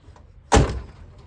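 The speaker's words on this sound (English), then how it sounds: "the door actually will open" A truck door swings open while the vehicle is moving, giving a single sharp, loud thunk over faint road noise, with no talking.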